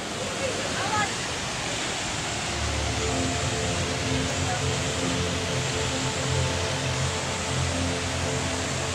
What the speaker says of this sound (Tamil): சைடில் எல்லாம் வேறு தண்ணி கொட்டுது.